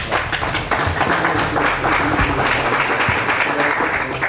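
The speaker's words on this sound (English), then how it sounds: "Let's just give a round of applause to Neil." Audience applauds Neil at a Startup Grind evening interview event, a dense, steady wash of many hands clapping throughout with some voices mixed in.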